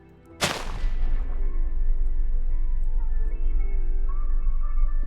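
A Minecraft explosion with the Explosion Overhaul mod bursts suddenly and loudly, then gives way to a long, heavy rumbling roar that keeps sustaining, layered with ringing tones.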